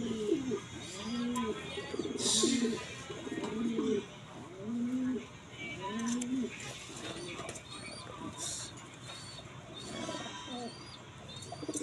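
Several pigeons, including a blue bar cock, coo in repeated low rounded phrases close by, with softer bird calls and faint rustling around them.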